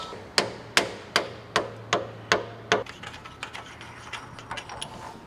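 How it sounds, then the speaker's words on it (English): Metal hammer blows on a Nissan Patrol front diff part, seven sharp evenly spaced strikes ringing out, followed by a quicker run of lighter, softer taps; no voices. "Gently bang it out with a hammer"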